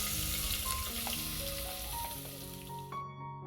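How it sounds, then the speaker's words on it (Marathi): Finely chopped onion fries in hot oil with bay leaf and whole spices, giving a steady, fairly loud sizzle that stops abruptly near the end, with faint tonal sounds in the background. "आता यात जाईल भरपूर बारीक चिरलेला कांदा."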